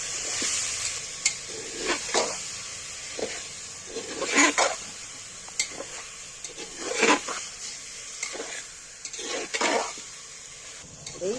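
Mutton stirred and fried in oil for dum ka mutton, a constant sizzle broken by repeated scrapes and clanks of a spoon against the pot, close and clear, with no voices.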